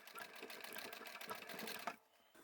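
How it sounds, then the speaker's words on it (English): A sewing machine runs in a fast, even chatter while back stitching through bulky folded fabric from an old men's necktie, stopping abruptly near the end, close and fairly quiet with no speech. "I'll back stitch a couple of times"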